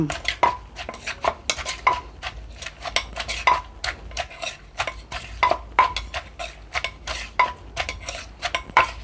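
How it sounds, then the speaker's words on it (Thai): Long beans and hog plum being pounded in a mortar with a pestle for a Thai papaya-style salad, with a steady rhythm of fairly loud wooden thuds and clacks mixed with light scraping, close up and without talk. "ตำถั่วใส่มะกอก"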